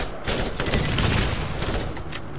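Gunfire and blasts in Borderlands run as a dense, loud rumbling barrage across the whole moment, with no talk.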